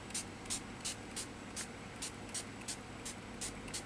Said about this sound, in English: we just spray it on top with a little bit of our base coat